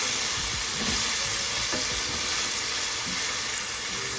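Vegetables sizzle in a skillet after a splash of Worcestershire sauce goes in, a steady loud hiss of frying that carries throughout with faint scraping from stirring underneath.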